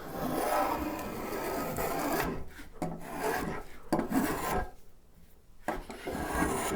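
A hand rasp chamfers the edge of a wooden desk part in a workshop with a run of rough, rasping strokes, some long and some short, broken by brief pauses, close and clear.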